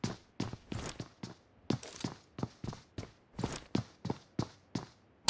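Footsteps in PUBG Mobile, a regular run of crunchy thuds at a steady pace, fairly close and clear with no talk over them.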